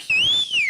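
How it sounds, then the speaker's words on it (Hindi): One short, clear whistle from a person, a single rising-then-falling tone held for under a second, close and alone. "ऐसे मैंने सीटी मारी"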